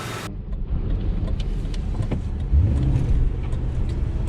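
A blue Ford Crown Victoria police car drives along with a steady, low engine drone and road rumble heard from inside the cabin. The noise stays constant, with a brief swell partway through.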